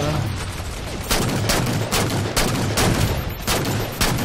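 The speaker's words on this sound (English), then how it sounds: "I'm being shot at while I shoot." Sustained gunfire in the video game Halo 4, played in a King of the Hill match on the map Harvest: a dense, loud fusillade with repeated sharp shots over continuous battle noise.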